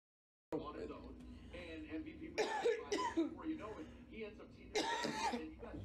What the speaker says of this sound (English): I just have a dry cough.